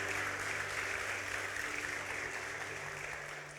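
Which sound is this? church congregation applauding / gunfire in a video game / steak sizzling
church congregation applauding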